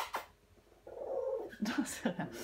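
A domestic cat weighing about six kilos meows softly several times at close range, with a quiet voice speaking around it.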